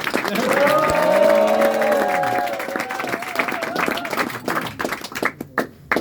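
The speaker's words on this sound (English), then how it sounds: "in the end, give some enthusiastic applause" A comedy-show audience bursts into loud whoops and cheering voices that give way to scattered clapping, with the crowd noise thinning into separate, uneven claps near the end.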